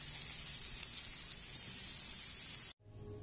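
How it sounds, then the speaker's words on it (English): Beef sizzles loudly on a Blackstone griddle with a steady, hissing frying sound that cuts off abruptly near the end, leaving only quiet background noise. "We got a nice sear on the meat"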